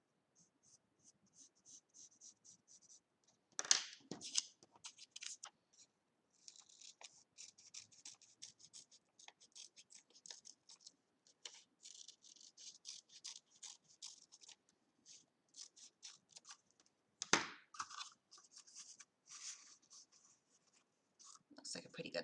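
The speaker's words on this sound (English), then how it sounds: "So I draw it on a piece of paper" Pencil scratching and rubbing on paper while a wing outline is drawn for a toilet-paper-roll owl craft: soft, close, intermittent strokes with two sharper, louder scrapes, no talk.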